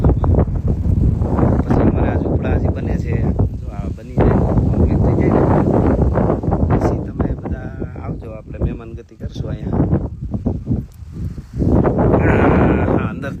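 Strong wind buffets and roars in loud gusts, rumbling across the microphone while a person talks over it.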